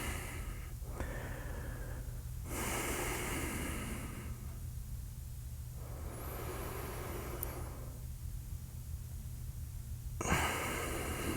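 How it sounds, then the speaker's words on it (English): Slow, steady breaths drawn in and pushed out through the nose during a vinyasa power yoga class, each breath a soft, airy hiss lasting a couple of seconds and repeating in a calm rhythm, close and alone. "breathing in and out through the nose"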